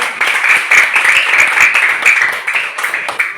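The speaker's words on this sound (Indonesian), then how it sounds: "Demikian penampilan kelompok 1. Berikan aplaus untuk mereka." Audience applause for the first group after its performance in a classroom teaching practice session, steady dense clapping from many hands throughout, moderately loud and close, with no one talking over it.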